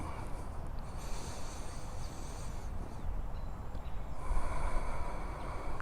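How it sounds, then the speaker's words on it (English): A long, slow breath drawn during a breathing exercise, heard as a soft, steady airy rush that stretches for several seconds and swells slightly toward the end. "Let that breath get long."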